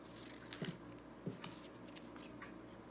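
Scissors snip paper flower petals in a few quiet, separate cuts, each a short crisp crunch, in a calm room with no talking.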